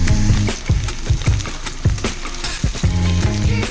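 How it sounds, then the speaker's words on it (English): Thin bangchim batter frying in a pan until crispy, giving a loud, continuous sizzle with crackling pops and bursts from the hot oil, close up and with no talking. "so I'm frying it up"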